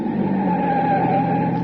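A taxi car brakes to a stop with a steady, loud tire skid and engine drone lasting throughout, no voices over it.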